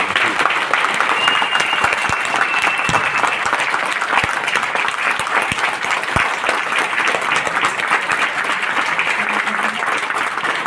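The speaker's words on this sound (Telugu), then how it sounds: "ఒకసారి అందరూ గట్టిగా చప్పట్లు కొట్టండి." A seminar audience claps hard and continuously at the host's prompt. The applause is dense, loud and close, and it runs steadily the whole time with no gaps.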